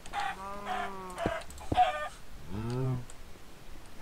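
Chickens cluck in Minecraft in a series of short tonal clucks and squawks, fairly close, with soft background noise between the calls.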